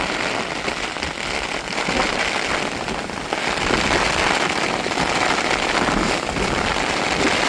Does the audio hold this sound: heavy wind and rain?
yes